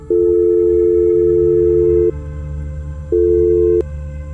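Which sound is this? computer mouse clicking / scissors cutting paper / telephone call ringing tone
telephone call ringing tone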